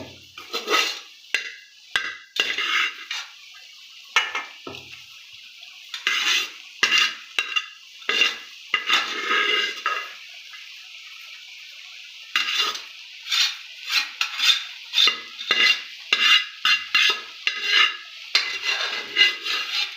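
Cooked rice being turned over in a metal pot while making tamarind rice: repeated close scraping and clattering strokes of a spoon against the pot, arriving in irregular bursts with short pauses and no voices.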